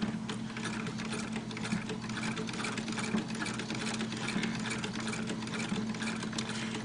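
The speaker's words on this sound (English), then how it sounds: "piece of fabric here, and we'll do a little bit of sewing." A powered sewing machine stitches a piece of fabric, giving a steady, close mechanical whir with a fast repeating rattle that runs the whole time without a break or any talking.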